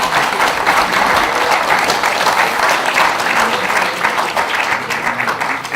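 Loud, dense applause from an audience opening a Liberty Korea Party lawmakers' assembly, sustained and even throughout with a faint crowd murmur beneath.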